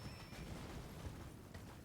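A horse in a video game set on snowy mountaintops neighs and its hooves clip-clop, over a steady dense background of game ambience, with no talking.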